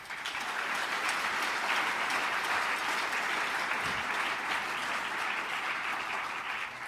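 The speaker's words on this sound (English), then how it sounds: "They all deserve a round of applause." Sustained applause from a sizable crowd at an awards dinner, steady dense clapping that carries on without a break for several seconds.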